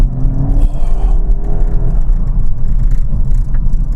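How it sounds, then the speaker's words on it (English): A Mark III Skoda Octavia vRS with 220 PS, a DSG gearbox and front-wheel drive is being driven, heard as a steady interior engine and road rumble with a brief rising whine early on, with no voices. "I'm now driving the Mark III, the immediately previous version of the Octavia vRS."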